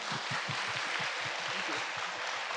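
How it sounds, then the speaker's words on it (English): An audience applauds after a lecture, a steady wash of many hands clapping together, continuous and moderately quiet throughout. "So another round of applause for Ben."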